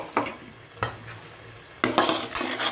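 A tomato and green chilli paste hits a hot pan while cooking a chitol fish kalia: scraping stirs come in three distinct bursts over a soft frying sizzle, close and fairly loud.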